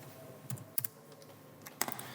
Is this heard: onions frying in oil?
no